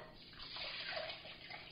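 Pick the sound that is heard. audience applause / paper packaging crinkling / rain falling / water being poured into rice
water being poured into rice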